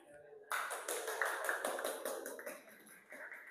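Classroom applause that starts abruptly, a burst of many hands clapping in a dense, lively patter that gradually thins out, heard from up close indoors.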